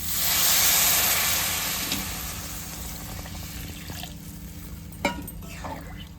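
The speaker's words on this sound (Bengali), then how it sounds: "এবারে এখানে মাপ মতো কিন্তু জল দিয়ে দিতে হবে।" Water poured into a hot pan of frying red lentils and pointed gourd, a loud hissing steam burst at first that fades into a gentle simmering sizzle, with a small clink near the end.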